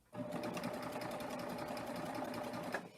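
Serger overlock sewing machine running steadily while stitching fabric, a close, fast, even mechanical whir that starts abruptly and holds for nearly three seconds before stopping.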